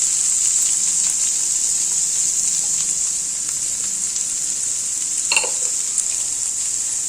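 Cabbage sautéing with rock salt in a pan makes a continuous bright hiss and sizzle, with light stirring scrapes and a brief clatter late on, no talking.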